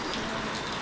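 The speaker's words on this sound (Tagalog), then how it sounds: "Ngayon nyo guys, naulan." Steady rain falls close by, a dense, even hiss of drops on a surface that runs unbroken through the brief moment, with no voices.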